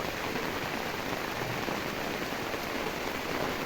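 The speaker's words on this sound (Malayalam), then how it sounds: "മഴയൊക്കെ നമ്മൾ ആസ്വദിക്കണം" Steady rain falls in a dense, even hiss that stays unchanged from start to finish, fairly loud, with no voices.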